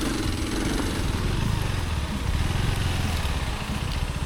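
A Kawasaki KLX 230 dual-sport motorcycle engine runs steadily while riding off-road, a continuous loud mid-pitched drone close to the microphone.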